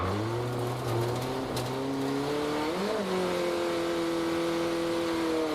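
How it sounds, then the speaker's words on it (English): A drift car on a competition course is e-brake dragged down a hill on low-grip tires while the revs are held high. A loud, close engine drone dips and then climbs in pitch, with faint tire noise. "it's way easier for me to just e-brake drag down the entire hill"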